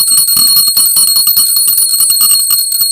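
A small hand bell rung steadily and rapidly during a Ganesh puja incense offering, its bright metallic ringing continuous and close, with no talking.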